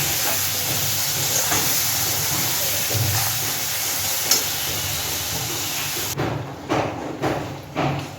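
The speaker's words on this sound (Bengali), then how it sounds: "একটু ভাজা ভাজা করে নেব" Potatoes seasoned with turmeric and salt fry in a pan with a steady, close steam-like hiss for several seconds, then it goes quieter, with a few soft bursts of stirring.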